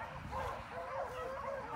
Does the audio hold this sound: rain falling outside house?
no